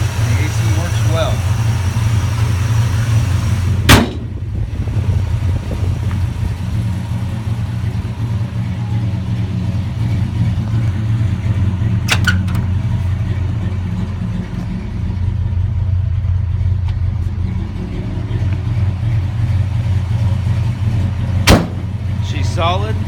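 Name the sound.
1957 Chevrolet 3100 truck with 265 engine running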